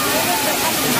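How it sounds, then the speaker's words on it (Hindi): Dhaskund waterfall in Mahasamund, Chhattisgarh gives off a steady, loud rushing roar of falling water, heard up close and filling the moment. "ये है वाटरफॉल"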